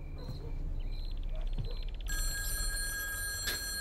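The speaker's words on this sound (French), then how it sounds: "Ah, téléphone." A telephone rings in a room during a tense evening scene, its bell-like tone entering partway through and repeating over low background rumble, with faint voices around it.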